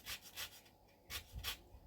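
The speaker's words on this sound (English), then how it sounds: "I'm going to grate the zest in" A fine grater rasps lemon zest into a bowl of butter, giving several short, soft scraping strokes close by in a quiet room.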